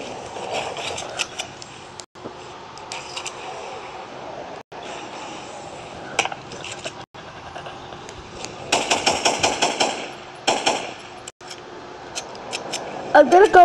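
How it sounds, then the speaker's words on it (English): Gunfire in the video game Fortnite rings out as rapid bursts of sharp shots over steady game background noise, with louder clusters of automatic fire near the end and a voice talking now and then. "He was going to shoot that guy."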